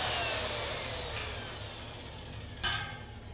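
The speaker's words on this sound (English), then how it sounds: "You hear that roll bogging down, that motor bogging down?" A boiler tube roller motor bogs down as the roll tightens against the tube, a steady whirring drone that slowly sags in pitch and loudness, with a brief metallic burst near the end and no voices.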